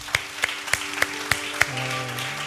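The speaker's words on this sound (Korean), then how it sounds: "우리 다시 한번 하나님께 감사 박수 올려드리겠습니다." Claps from a church worship service, six sharp, evenly spaced claps over sustained keyboard-like tones, with the music shifting pitch as the clapping stops.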